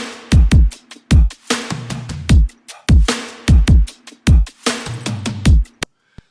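Punchy EDM/rock drums with a heavily clipping two-layer kick, booming kicks falling in a driving pattern alongside snares and cymbals, loud and close with no talking, ending on a final sharp hit.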